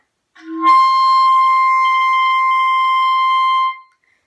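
A single high D on clarinet, briefly tongued from below, then held steady and clear for about three seconds before stopping.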